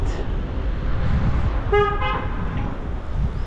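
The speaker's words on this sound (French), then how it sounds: "Pourquoi tu me klaxonnes?" A car horn honks twice in quick succession over steady traffic noise and engine rumble, on a street in Algeria during a sandstorm.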